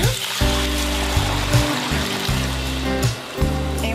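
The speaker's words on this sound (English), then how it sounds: "We're going to pour this broth over into here" Broth poured into a pan while cooking steak and vegetables, a steady watery pour and sizzle running throughout, with a low humming tone underneath.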